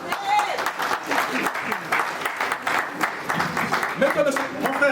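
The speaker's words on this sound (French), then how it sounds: "On acclame le Seigneur." A congregation at a church wedding in Vitry-sur-Seine claps in acclaim of the Lord, steady rippling applause from a crowd in a reverberant hall, with voices talking over it throughout.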